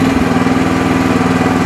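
Chinese FF12 mini excavator engine idling at low throttle, a loud, steady close-up drone with a regular low pulsing throb throughout.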